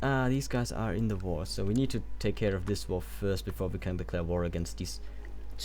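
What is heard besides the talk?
No everyday noises stand out.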